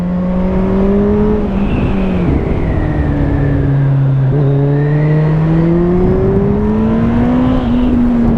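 A 200 hp Kawasaki ZZR 1400 motorcycle engine pulls hard under acceleration, its loud close howl climbing in pitch, dropping briefly on a gear change, then rising again.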